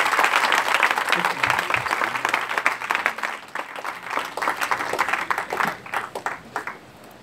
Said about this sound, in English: Clap unto the Lord.